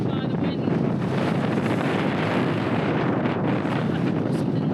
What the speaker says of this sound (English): The paddleboard keeps getting picked up by the wind.